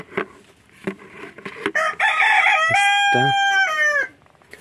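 On a free-range farm with about a hundred free-range hens, a rooster crows once, loud and close, while hens cluck and call in short bursts around it.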